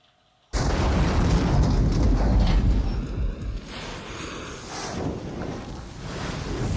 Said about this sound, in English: What an incredibly convenient vehicle to be driving for a big explosion.